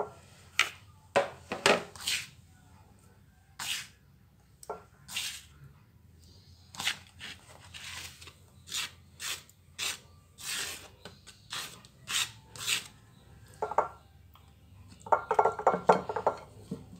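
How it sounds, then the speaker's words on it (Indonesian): Hands coat catfish with a ground spice paste in a home kitchen, making soft, irregular wet rubs and dabs close by, with light clinks of a dish or utensil scattered throughout and no talking. "Selanjutnya, lumuri ikan lele dengan bumbu halus."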